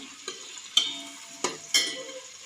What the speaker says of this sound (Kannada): ಟೊಮೆಟೊ ಬೆಳ್ಳುಳ್ಳಿ ಎಲ್ಲ ಈ ಥರ ಫ್ರೈ ಆಗಿದೆ ನೋಡಿ